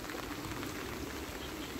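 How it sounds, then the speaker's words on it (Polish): Heavy rain pours outdoors by a pigeon loft as a dense, unbroken hiss of countless drops, steady and even throughout, with no voices. "chyba kończę nagranie, bo naprawdę nie pada, tylko leje"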